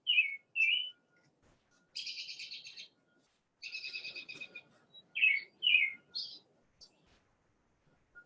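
Birds chirp and whistle in short bursts and trilling phrases, fairly close and clear, with quiet pauses between calls and faint background rustle.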